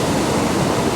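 The Skyfall waterfall in Glen Etive, a dense, steady rushing roar of falling water, close and loud, with no voices.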